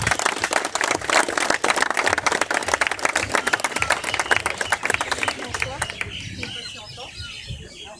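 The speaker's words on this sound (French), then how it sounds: "Sous vos applaudissements, s'il vous plaît." Audience applauding at an outdoor celebration event on Réunion, a dense, sustained crowd clapping that fades out near the end, with some voices mixed in.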